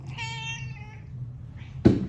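A hungry cat meows in a long, clear, harmonic call that fades out, then a short second meow follows, close by and alone.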